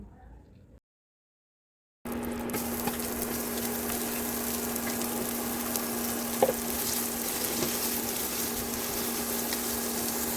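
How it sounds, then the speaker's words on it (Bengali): Onions fry in a pan for a prawn bhuna, giving a loud, steady, close sizzle that starts abruptly after a short silence and continues evenly to the end. "পেঁয়াজ ভাজা হয়ে গেছে"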